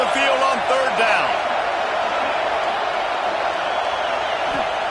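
A home crowd in the American football video game College Football 25 roars loudly and steadily through a third-down defensive stand, with a voice briefly audible near the start.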